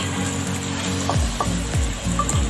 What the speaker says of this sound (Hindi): एक छोटा बाउल के कैबेज डाल देंगे इसे भी हम भून लेंगे सब्जियों के साथ